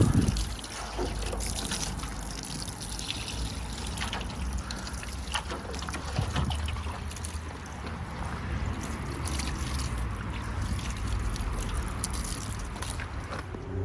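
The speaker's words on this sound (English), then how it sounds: "Now this is what I've got the actual watering can for." Water pours from a watering can over a Citroen car engine bay, a steady soft trickle and splash that continues evenly throughout without speech.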